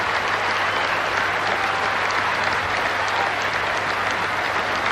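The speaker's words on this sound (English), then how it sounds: "listen to the applause ringing round the ground" A rugby stadium crowd at Otley applauds steadily after a 1991 World Cup match between Italy and the USA, dense sustained clapping filling the ground without a break.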